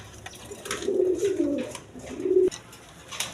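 Pigeons coo at a wholesale pigeon farm, low repeated rolling calls in a few phrases, fairly close, with faint background chatter and rustle.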